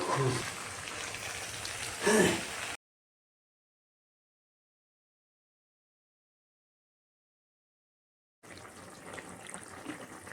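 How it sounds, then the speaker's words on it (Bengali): Hot water poured into a pan of mixed vegetable curry makes a rushing, splashing gush, heard close up at the start and again at the end with a long silent gap between. "এখন ঢেলে দেবো আমি গরম জল।"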